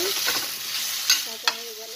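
Surmai fish sizzles in a pan with turmeric as a utensil stirs it, giving a steady close frying hiss with two sharp scrapes or knocks partway through.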